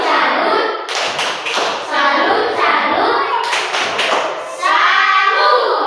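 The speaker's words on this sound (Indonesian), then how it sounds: "Tepuk tangan dulu untuk kelompok 2. Kita tepuk salut lagi." Schoolchildren in a border-area classroom perform a rhythmic patterned clap in unison for a presenting group, crisp bursts of hand claps and taps with children's voices chanting along.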